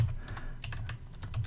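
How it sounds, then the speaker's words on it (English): Rapid, uneven clicking of keys on a computer keyboard as someone types a search, close and fairly quiet with a low room hum beneath. "Just type in eBay community, like that there."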